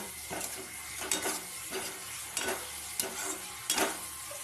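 Eggs in curry sautéing in a pan, a steady soft sizzle broken by periodic scraping strokes of a spatula every second or so, close and moderately quiet with no voices.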